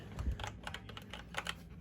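Clicky typing on a mechanical keyboard with Cherry MX Blue clone switches, a quick irregular run of sharp key clacks, close and fairly quiet, with no talking.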